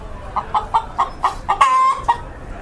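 Chicken clucking up close, a run of about seven short rhythmic clucks broken by one longer drawn-out squawk, loud and clear without any speech.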